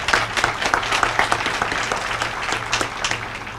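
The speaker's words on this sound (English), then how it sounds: "Give them a round of applause." Audience at the Purple Light Nights lighting ceremony applauds civic partners, 100 Black Women and 100 Black Men of Prince George's County, with steady, fairly loud crowd clapping throughout.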